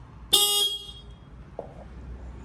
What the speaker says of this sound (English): This is the sound of the standard horn.